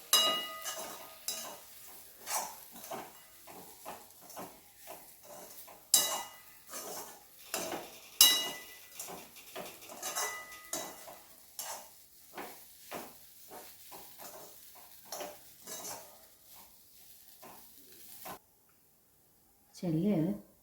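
Pav upma with sugar being stirred in a pan, a spoon scraping and tapping the metal in an uneven rhythm over faint sizzling, close and fairly quiet, ending with a brief pause.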